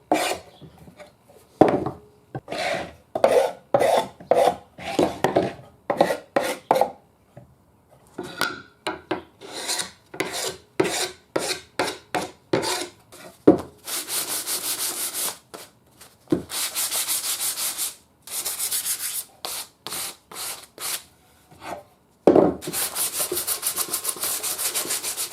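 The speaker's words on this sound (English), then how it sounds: "We're just taking a sharp chisel and dragging it across it. Go with the grain, and it just takes that varnish right off." A sharp chisel is dragged along the grain of a 1920s horn speaker's varnished wooden cabinet, making repeated close, rhythmic scraping strokes, with longer harsher passes later on.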